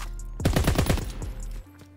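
Rapid burst of automatic fire from the Lad machine gun in Call of Duty WW2, about ten close, loud shots in quick succession, then a brief quieter tail.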